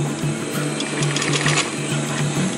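A sewing machine runs a box-shaped stitch through Velcro and webbing on a MOLLE panel, a close, steady mechanical whir with a rapid rhythmic needle chatter that holds evenly throughout.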